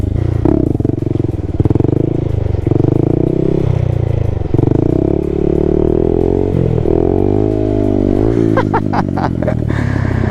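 A small Honda Grom motorcycle held in a wheelie, its single-cylinder engine revving steadily with pitch rising and falling, close and loud, with some rattling clatter near the end.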